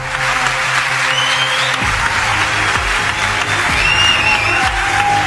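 Sustained, dense applause from a large standing audience fills the whole stretch, steady and loud, with a faint ringing tone drifting above the clapping.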